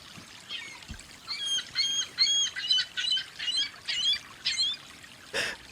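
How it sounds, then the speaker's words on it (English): Ring-billed gulls call repeatedly at a creek, a run of loud, rhythmic squawking cries in quick bursts, with one sharper call near the end over low background noise. "Just seagulls? North American ringed gull."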